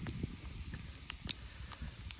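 Leftover food warming over a campfire in the woods, a faint steady sizzle and hiss with scattered small pops and crackles, close by and without talk.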